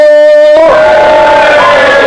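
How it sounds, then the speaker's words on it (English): An audience at a comedy gig in a brewery cheers loudly and steadily, a dense roar of voices that swells in after a brief tone. "Just give me a cheer if you've been to this gig before."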